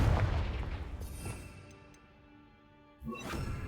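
Confringo explosive spell from the Hogwarts Legacy video game, a single booming blast that rumbles and fades over about two seconds, followed by a second sharp burst, loud and near with no talk.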